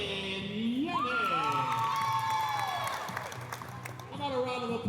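Crowd cheering and applause for high school volleyball athletes and coaches at a league bracket championship between Harlingen South and Brownsville Rivera, with shouts and whoops from a gym audience under a steady roar, alongside an announcer's voice.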